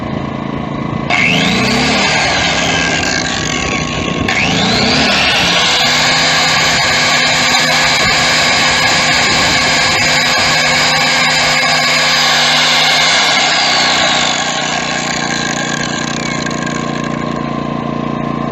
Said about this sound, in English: Finally, I am going to turn on this grinder and see how it does. It's a 6 amp grinder.